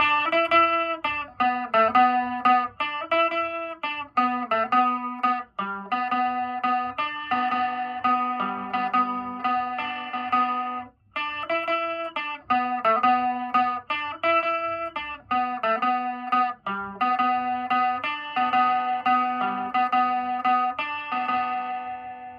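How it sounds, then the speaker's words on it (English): An electric guitar plays a post-punk riff through a Behringer vibrato pedal, with a wavering, warbling effect on the notes, clean and steady with no voices. "I used the vibrato effect on the Behringer vibrato pedal that I own"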